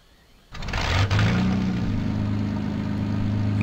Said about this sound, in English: So this will rev the engine up.